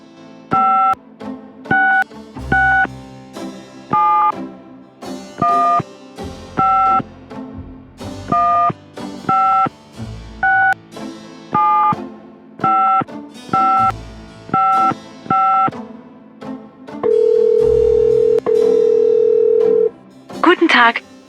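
Telephone keypad tones dialing an international number in the Gabriel Knight adventure game, a rapid series of evenly spaced beeps followed by a long steady ring tone, clear and close.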